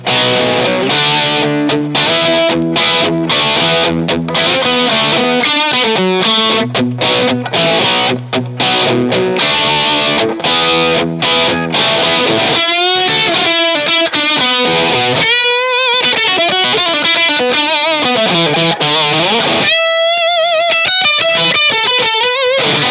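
Electric guitar riffs played through a GOAT analog Rockman-style distortion pedal, loud and continuous with chord stabs, sustained distorted notes and short pauses between phrases, heard alone with no voices.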